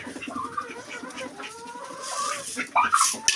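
Turkeys and chickens cluck and chatter nearby while being fed in the evening, a busy overlapping flock with a voice speaking among them.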